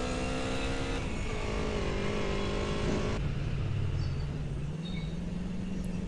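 A vehicle engine roars loudly and continuously while boosting, its pitch climbing, then dropping abruptly to a lower drone, with a few brief higher squeals that could be tyres skidding.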